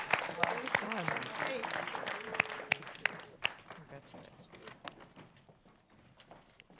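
Scattered applause for finalists at a women's awards ceremony, fading gradually and fairly faint, with individual claps standing out sharply.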